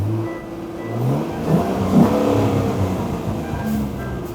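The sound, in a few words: Morgan car V6 Cyclone engine revving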